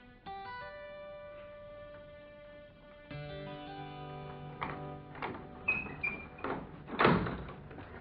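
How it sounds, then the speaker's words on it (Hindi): A jail door is unlocked with a key and swung open, giving a series of metallic clanks and rattles in the second half. Sustained tonal sounds play underneath. "ये चाबी लो, दरवाजा खोल दो"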